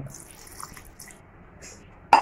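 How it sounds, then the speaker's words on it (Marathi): Water trickles and splashes softly into a cooking pot holding raw mango for panha, over low background noise, ending with a sharp clatter. "बघा मी आता ह्याच्यात ना थोडंसं असं पाणी टाकते"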